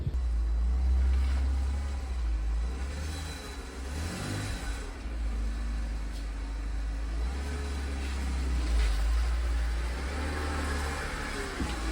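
A BMW E46 3 Series engine idles and revs at close range, a steady mid-range rumble with gentle swells as the car is eased into a garage, no talking.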